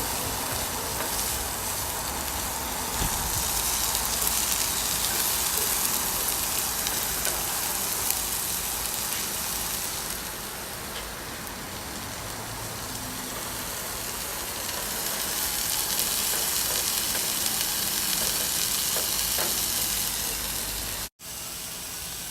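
Onions frying in butter on a grill, a loud, steady crackling sizzle lasting the whole time, briefly cut off near the end; no voices.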